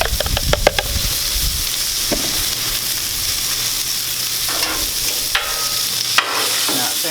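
Brussels sprouts sizzle in bacon fat on a Blackstone griddle. A steady frying hiss runs under sharp scraping and clattering from a spatula, with a few louder clanks.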